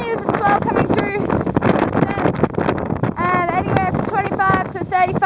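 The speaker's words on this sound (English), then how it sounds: "It's very, very windy and very rough." Strong wind roars and buffets the microphone aboard a racing yacht in rough seas near Taiwan, a loud continuous rush with gusting surges, while voices talk over the din.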